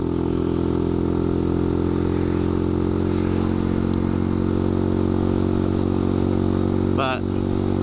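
Honda Grom motorcycle idling with a new aftermarket exhaust, a steady close low rumble throughout with a brief clatter near the end.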